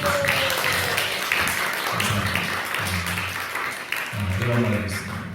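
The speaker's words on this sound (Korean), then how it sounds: "오늘 박수 한번 주세요" Applause from a church congregation welcoming a visiting pastor from afar, steady and dense throughout, with voices and an amplified low hum sounding beneath the clapping.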